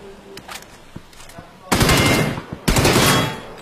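Automatic gunfire in a first-person shooter video game: two loud, sustained bursts of rapid shots, each lasting about a second, with quieter clicks and voices before them.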